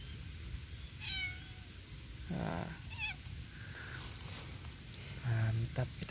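A cat meows several times beside a lake where people are fishing, with short rising calls spaced through the clip over steady outdoor background noise. A louder, fuller meow comes near the end.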